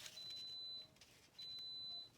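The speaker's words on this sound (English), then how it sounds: "My pressure cooker's telling me" Two bursts of steady high-pitched electronic beeping from a pressure cooker signalling that cooking is starting, each lasting under a second and separated by a short pause, fairly quiet in a room with no talk.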